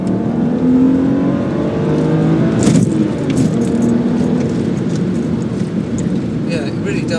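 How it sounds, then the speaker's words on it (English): A BMW 330i E90 Touring engine hums and revs up under a voice, the motor note rising through the clip with a brief rattle midway. "See if you can hear the engine at all."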